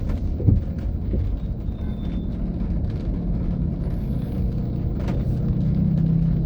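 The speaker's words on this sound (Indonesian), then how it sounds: "Ini macetnya kesana kemari macet nih karena memang ya mobilnya banyak." Cars crawling in a long morning traffic jam in the rain make a steady, close low rumble of engines and tyres that swells slightly toward the end, with no voices.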